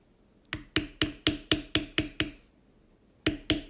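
A large leather beveling tool struck with a mallet, giving crisp, close wooden knocks: seven in a quick, even series, a pause, then two more.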